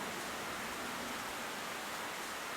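Steady, even rain hiss in a fantasy role-playing game scene, a dense continuous wash without distinct drops or voices.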